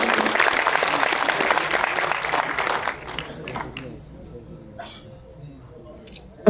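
An audience at a public event on a stage applauds loudly for about three seconds, then the clapping thins out and fades into scattered claps and background murmur.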